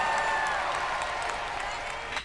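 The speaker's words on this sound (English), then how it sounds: "Everyone in your row, give her a round of applause for sacrificing herself." A game show audience claps in a dense, fairly quiet wash of applause that holds steady for a couple of seconds while a voice talks over it, ending with a sharper burst.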